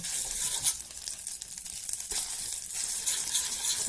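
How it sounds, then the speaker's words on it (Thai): Thai red curry paste stir-frying over low heat in a pan, a steady close sizzle with soft scraping and crackle throughout, no talking. "ไฟอ่อนๆผัดให้พริกแกงมันหอมก่อน"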